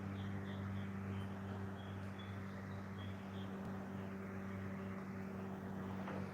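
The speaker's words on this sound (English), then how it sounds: "now I hear an airplane going over" A distant airplane passes overhead near an island, a steady low droning rumble that stays faint and constant throughout, with no talking.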